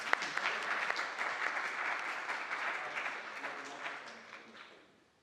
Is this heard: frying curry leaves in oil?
no